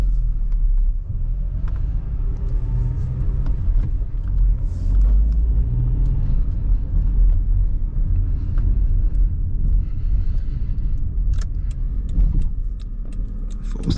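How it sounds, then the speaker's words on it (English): A 2006 Honda CR-V with a five-speed manual gearbox and 127,000 miles drives along, its engine and road noise making a steady, loud low rumble from inside the cabin, with a few small clicks and rattles near the end. "Let's go for a drive. Have some fun in this 2006 Honda CRV."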